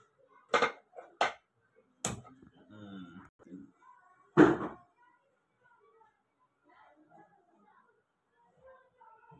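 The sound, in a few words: cooking pots and pans clattering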